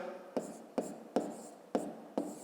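Pen or pencil writing numbers on paper during a fifth-grade maths exercise, five short scratchy strokes in a steady rhythm, close and fairly quiet with no talking.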